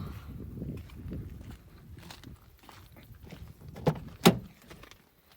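The driver's door of an old Honda CR-V is unlatched and swung open in a garage. It gives a sharp click and then a louder clunk near the end, after a stretch of quiet shuffling and low rumble.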